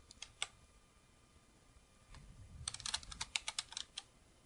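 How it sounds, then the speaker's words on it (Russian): Keys pressed on a computer keyboard while working in Word 2007, with a few isolated clicks followed by a quicker run of crisp keystrokes, close and fairly quiet, with no speech. "Для перехода во вложенный список можем нажать на клавиатуре клавишу Tab."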